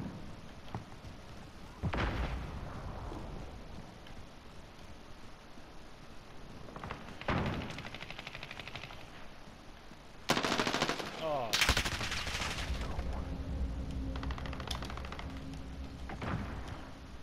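Gunfire in the Modern Warfare video game, with a bursts of automatic weapon fire and sharp shots over a constant noisy game soundscape, loud and close, one heavy burst standing out near the middle.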